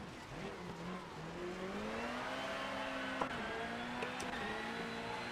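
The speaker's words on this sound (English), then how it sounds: "I think it is okay with this engine sound" Hyundai i20 Coupe WRC 2020 rally car in Richard Burns Rally, its engine droning steadily and rising in pitch as it accelerates through the gears, with a couple of sharp clicks and no voices.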